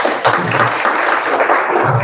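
Audience applause at a wellbeing conference, a steady dense wash of clapping filling the room for about two seconds.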